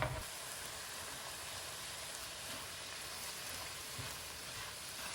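Chicken and chopped green pepper simmer in a covered pan on low heat, giving off a soft, steady sizzle that stays faint and even from start to finish.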